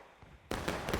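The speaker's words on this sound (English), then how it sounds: "I think they're firing a shot, seeing where it hit, and then adjusting the cannon next to it" A single sharp cannon blast from a video game battle erupts after half a second of quiet background, then a loud, sustained boom and rumble fills the rest of the second-long moment.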